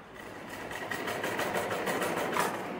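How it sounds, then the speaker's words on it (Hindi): A sewing machine stitches fabric laid on paper for a trouser-hem design, a continuous close mechanical hum with a faint rhythmic pulse throughout. "देखिए तो हम स्टिच करते हैं, आप देख सकते हैं हम कैसे स्टिच कर रहे हैं।"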